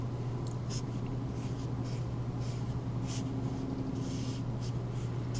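A pen sketches region boundaries by hand on paper, with soft intermittent scratchy strokes over a steady low background hum, quiet and close.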